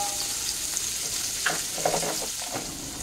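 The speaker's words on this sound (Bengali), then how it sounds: "একটু নেড়ে চেড়ে পেঁয়াজটাকে হালকা করে ভেজে নিচ্ছি।" Onion frying lightly in hot oil in a home kitchen, a steady soft sizzle with a few scraping stirs of the spoon, close and alone without talk.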